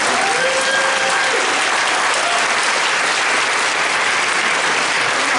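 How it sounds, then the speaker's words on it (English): Sustained applause from an audience at a Democratic political event in Arlington, steady and dense throughout, with no voices rising above it. "we need to give Governor Terry McAuliffe a hand for this"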